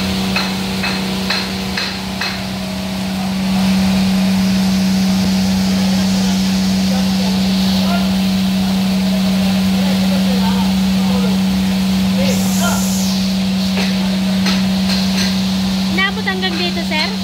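A steady engine of a suction pump drains floodwater at a flooded public market, droning loudly and continuously with a strong low hum, while people talk and metallic clanks sound intermittently nearby.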